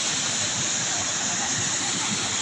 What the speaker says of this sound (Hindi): यहाँ पे थोड़ा सा झरना जैसा भी बना हुआ है, और ये काफ़ी गहरा ये तालाब है।